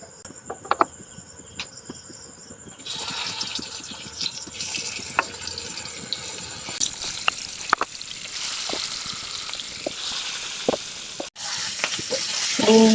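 Eggs seasoned with salt, chili and turmeric powder fry in oil in a pan, giving a steady close crackling sizzle with occasional sharp pops and utensil clicks.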